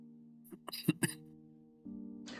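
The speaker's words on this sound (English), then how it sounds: "I have like a sore throat, so if I cough a little bit, please, I apologize." A person with a sore throat gives a couple of short, throaty coughs close to the microphone, followed by a brief breathy sound, with a faint background hum.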